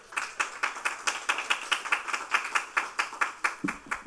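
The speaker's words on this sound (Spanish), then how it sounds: "Aplausos reiterados para el equipo." Steady rhythmic clapping from a group at an awards ceremony, sharp regular claps at about four per second, fairly close and continuing throughout without any talking.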